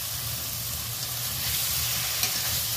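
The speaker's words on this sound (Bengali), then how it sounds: "চিংড়ি মাছটা হালকা করে একটু নাড়াচাড়া করে নেব" Shrimp hiss and sizzle steadily in a hot pan while being stirred, a continuous close frying sound with a soft scrape near the end.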